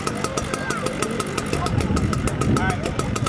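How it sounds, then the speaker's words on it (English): Firefighters cutting open a car hood with a power saw, a loud continuous engine-like whine and grinding heard close by, running steadily with a rhythmic pulsing throughout. "Right now we're going to demonstrate cutting open the hood."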